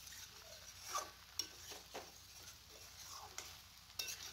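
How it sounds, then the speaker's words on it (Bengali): Cabbage and rohu fish with cornflour and turmeric are stirred in a pan, a faint low sizzle with soft, scattered spoon scrapes against the metal. "আর কর্নফ্লাওয়ার দিয়ে আমি ভালো করে একটু নাড়াচাড়া করে নিচ্ছি"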